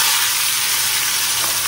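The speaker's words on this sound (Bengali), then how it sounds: "আর এখানে হচ্ছে ইলিশ মাছ ভাজবো" Hilsa fish fries in a kadai, giving a loud, dense, continuous sizzle and crackle of hot oil close up, with no talking.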